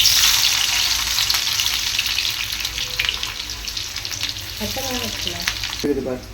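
Onion fries in a little oil, a loud, continuous close-up sizzle that eases slightly over time, with a few faint clinks and tonal sounds near the end.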